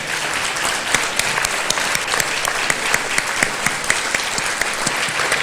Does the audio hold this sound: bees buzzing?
no